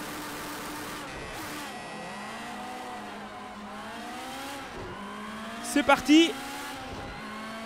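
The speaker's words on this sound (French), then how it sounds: "on enchaîne avec la 908-03 Spider sur le circuit de Laguna Seca aux États-Unis" A Porsche 908-03 Spider racing around Laguna Seca in a driving game, its engine droning and shifting pitch steadily, with a short loud spike of tire or impact noise near the end and a brief spoken phrase.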